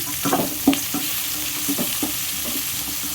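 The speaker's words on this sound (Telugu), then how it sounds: "సన్నగా కట్ చేసి పెట్టుకున్న ఎర్రగడ్డ ముక్కలు అవి కూడా వేసేసుకొని అక్కడ నుంచి బాగా ఎగనిచ్చేద్దాం" Chopped onion pieces frying with ridge gourd in a pan, a steady close sizzle broken by several soft stirring scrapes and clicks, with no voices.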